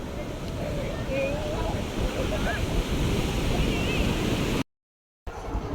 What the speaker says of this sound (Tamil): இன்னொரு பெரிய அலை வருது.